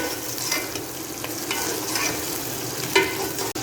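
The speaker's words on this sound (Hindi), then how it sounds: "यहाँ मैंने चिकन को सिर्फ 2 मिनट के लिए फ्राई किया है।" Chicken fries with browned onions in a pan, giving a continuous dense sizzle with periodic scraping stirs and a sharp clack near the end.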